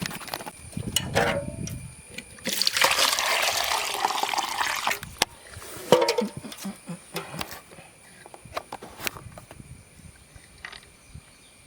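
Water pours and splashes while a fish tank is cleaned, with a loud rushing burst of a few seconds, then scattered drips and handling sounds nearby and occasional faint voices.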